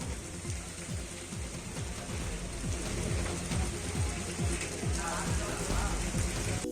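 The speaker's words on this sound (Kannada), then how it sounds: "ಇನ್ನು ರಾಮನಗರದಲ್ಲೂ ಮಳೆರಾಯ ಅಬ್ಬರಿಸ್ತಾ ಇದ್ದಾನೆ." Heavy rain pouring down in rural Ramanagara, Karnataka, a loud continuous roar of falling water, with rapid repeated low splashing thuds like runoff dripping onto a surface close by.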